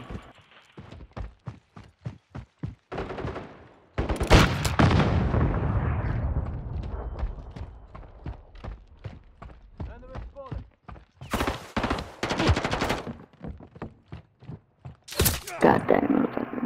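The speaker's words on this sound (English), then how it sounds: "I was waiting for them big bomb things to stop" Loud booming blasts from Call of Duty hardcore play, with big bombs going off in bursts among rapid gunfire cracks and footsteps, several heavy explosions ringing out over roughly seventeen seconds, no talk.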